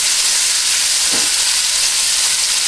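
A pot roast sears in a hot pan with a loud, steady sizzling hiss held close and unbroken, with no voices.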